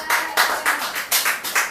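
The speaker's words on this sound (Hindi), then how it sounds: "बहुत ही अच्छे, ताली बजाएंगे भाई" About seven sharp hand claps in a loose, even rhythm, close and moderately loud, with no talk over them.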